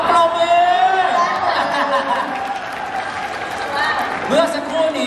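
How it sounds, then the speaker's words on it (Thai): Audience applause at a Toyota promotional event in a Central Plaza shopping mall, a steady patter of clapping mixed with crowd chatter and light laughter, with music or amplified voices running underneath. "ปรบมือ"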